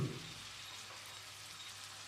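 Quiet, steady sizzling of tomatoes sautéing in a pan, a soft crackling hiss without any voices.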